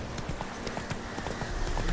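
Rapid, steady clip-clop of horse hooves in The Witcher video game, close and continuous over a noisy game ambience.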